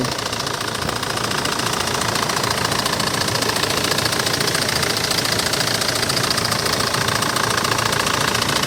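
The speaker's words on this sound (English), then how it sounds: "The engine sounds okay." A 2007 Kia Sorento 4WD diesel engine idles steadily up close, with a rough knocking clatter and constant low rumble, no pauses.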